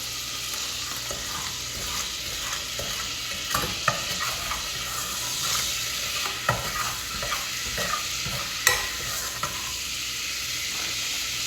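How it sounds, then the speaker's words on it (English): Half a stick of butter melts in a pan over low heat, giving a steady, close bubbling sizzle broken by a few soft scraping stirs and light taps, with no one speaking. "This time I am doing half a stick of butter, letting it get good and melted."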